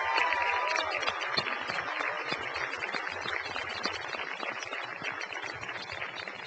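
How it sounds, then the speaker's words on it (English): An audience applauds at a college graduation ceremony, with dense sustained clapping from a large crowd that slowly tapers, with no talking over it. "Let's give them a round of applause."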